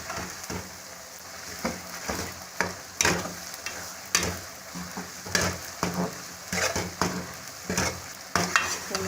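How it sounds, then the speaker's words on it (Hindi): A spoon stirs Mianwali kamakhandi halwa nonstop in a pan over moderate heat, with repeated scraping strokes over a soft sizzle, close and alone without talk. "तो मसलसल चम्मच हिलाना है इसको, रखना नहीं, रोकना नहीं चम्मच को।"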